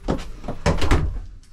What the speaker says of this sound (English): Close the door real quick. I want to see if you can shut the door.